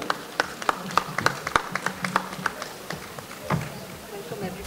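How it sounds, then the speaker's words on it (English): Audience applause welcoming a speaker at an education policy panel, scattered sharp claps from a modest crowd, close and uneven, tapering off toward the end under background murmur. "let's welcome Dr. Usha Reddy with a huge round of applause"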